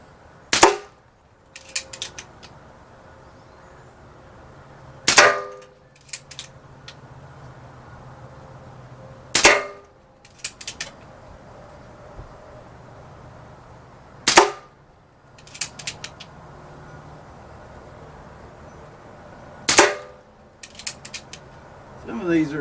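A Diana Stormrider .177 PCP air rifle fires five sharp, loud shots at roughly five-second intervals, each followed by quieter mechanical clicks of recocking and loading.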